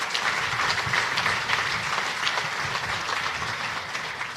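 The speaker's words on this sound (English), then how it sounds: "you can clap for that" Crowd clapping at a groundbreaking ceremony for The Hub, a continuous, fairly even wash of applause heard from a distance with no talking.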